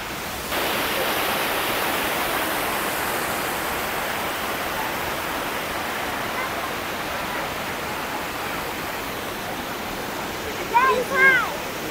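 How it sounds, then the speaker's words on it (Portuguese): Ducha de Prata waterfall in Campos do Jordão roars as a dense, steady rush of falling water heard from close by, with a brief voice near the end. "E aí aqui começa a parte das quedas."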